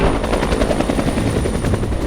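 A helicopter in flight during Air Force training, a loud steady rotor thump and engine roar heard from close by, filling the whole span with no talk.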